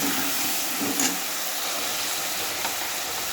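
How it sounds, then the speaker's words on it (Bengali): Rita fish heads rubbed with salt and turmeric sizzle and hiss steadily in hot oil, a continuous broadband frying crackle with a couple of brief pops near the start. "এখন তেলে দিয়ে দেবো এটাকেও আমি খুব সুন্দর লাল করে ভেজে নেব"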